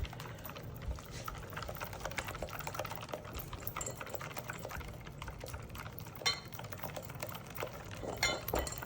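Homemade mayonnaise is whisked in a bowl, with a rapid, continuous ticking of the whisk against the bowl alongside faint wet splashes, close and steady with a few louder knocks.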